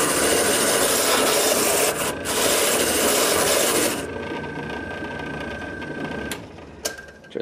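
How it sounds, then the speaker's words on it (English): A key-cutting machine deburrs a freshly cut key with a harsh, continuous rasping grind that softens after about four seconds, then runs quieter with a faint whine before a few clicks. "Let me just deburr it."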